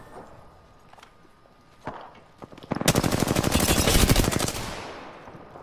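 Automatic weapon fire in the battle royale game Apex Legends: a quiet stretch with a couple of soft thuds, then a loud rapid burst of shots lasting about two seconds that trails off.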